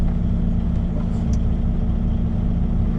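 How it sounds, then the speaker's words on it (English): Steady low diesel rumble of a semi truck idling and creeping forward as it pulls under a farm grain hopper, loud and continuous with no voices. "Now I'm gonna pull the semi underneath"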